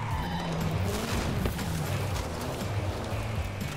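Engine and tire noise from a customised 1993 Renault Clio driven in the video game Forza Horizon 5, a steady droning rumble with a skid-like scrape partway through, heard alone without talk.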